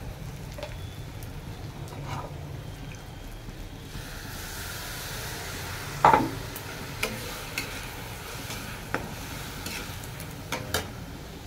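Spinach cooking in a pan on a home stove makes a low continuous sizzle, with scattered clicks and one louder clatter partway through, and no one talks.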